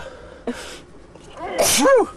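A single sharp sneeze bursts out near the end, preceded by a short breathy noise, against quiet background hum.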